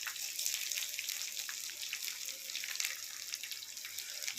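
Chopped onions going into hot oil in a pan on a home stove while cooking arbi curry, a dense steady sizzle, close and fairly loud, with no speech.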